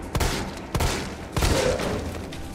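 Pistol gunshots in Resident Evil 3, three sharp, loud single shots spaced apart with a rumbling tail after each, no talking.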